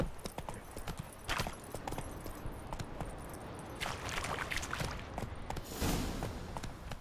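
Roach, a horse in The Witcher 3, trots with steady clip-clopping hooves close by, a soft continuous background underneath and a brief snort-like burst near the end.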